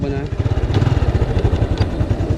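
Close, chugging semi-automatic motorcycle engine running in gear with a steady, pulsing rhythm, loud and rough, with no one speaking.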